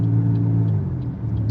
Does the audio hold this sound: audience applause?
no